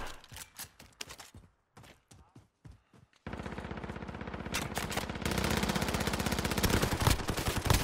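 Rapid bursts of automatic gunfire in Call of Duty Warzone, a few sharp scattered shots at first, then after a short gap a loud, dense continuous stream of fire that grows heavier to the end.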